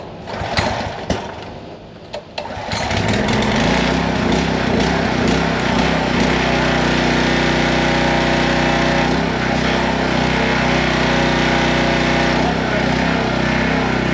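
Small engine on a Vevor pressure washer, which catches after a couple of short cranking pulls and settles into a loud, steady, buzzing idle close by.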